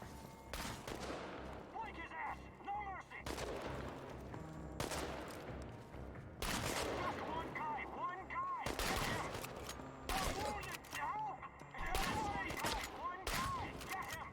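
Bursts of shotgun fire in the video game Chernobylite come in repeated loud blasts separated by short gaps, mixed with other game noise and a voice talking.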